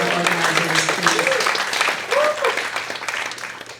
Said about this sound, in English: So another round of applause for all of the organizers, including the Al-Awda organizers, please